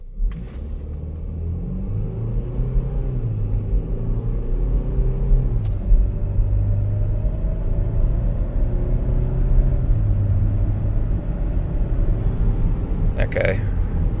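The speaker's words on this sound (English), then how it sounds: "I'm going to show you guys what I mean about the acceleration here" A Chevy Equinox Premier AWD with the 1.5 turbo engine accelerates on flat ground at light partial throttle, its low engine rumble rising and falling steadily throughout the cabin.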